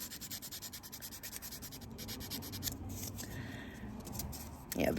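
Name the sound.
filing fingernail smooth during manicure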